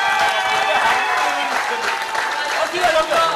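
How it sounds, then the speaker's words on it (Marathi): A crowd at a cricket league prize ceremony applauds steadily, a dense, sustained wash of clapping under loud talk through a speaker system. "एकदा जोरदार टाळ्या झाल्या पाहिजेत."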